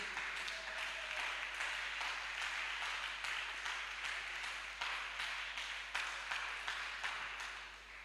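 A church congregation at a youth camp applauds with steady, dense clapping that holds for about eight seconds, moderately loud and fairly close, over a faint low hum, with no talking.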